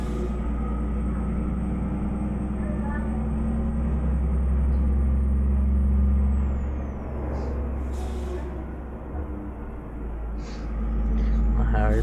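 A Scania R4 truck's engine rumbles steadily and loud while driving, a constant low drone with a faint high whine above it, easing briefly before building again.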